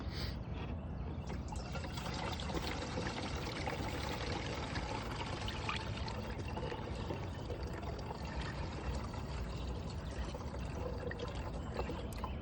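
Coolant pours steadily into a car's coolant reservoir, a continuous liquid trickle and gurgle heard close up and alone for the whole stretch.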